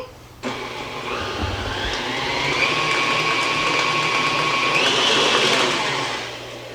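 Electric mixer beating cheesecake batter with eggs, switching on abruptly and then whirring steadily with a rising motor whine for several seconds before easing off.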